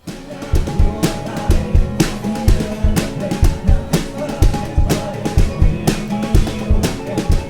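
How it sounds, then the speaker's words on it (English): Unprocessed drum kit fitted with new heads, played at a raw fader balance: punchy kick and snare hits in a steady groove with bright cymbal washes, close and loud, no voices. "this is just a fader balance of what the drums sound like."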